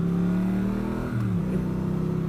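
Triumph Street Twin motorcycle engine pulling through the gears on British country roads, a steady, throaty, close drone whose pitch slides down, then picks up again.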